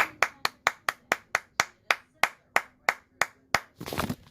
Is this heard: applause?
yes